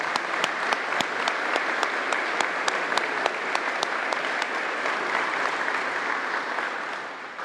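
Audience applause at the grand opening of Fire Station #2, a steady, dense wash of clapping with a few sharp, distinct claps standing out near the front, holding even throughout and easing slightly at the end.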